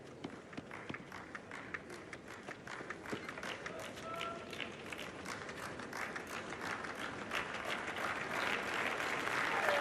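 Crowd applause at a French Open women's match between two Americans, Madison Keys and Sloane Stephens, a steady dense patter of many clapping hands that builds slightly louder over ten seconds, with faint murmuring underneath.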